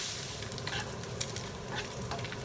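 Bacon frying in a pan, a dense, steady close sizzle with crackling spits and faint stirring scrapes, continuous with no talking.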